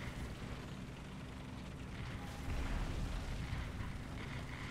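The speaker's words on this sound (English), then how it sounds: "Drop some artillery on him just to scare him" A War Thunder artillery strike brings a steady, rumbling roar of distant explosions that swells slightly partway through, with no voices.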